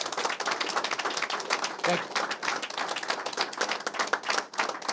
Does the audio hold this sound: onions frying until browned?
no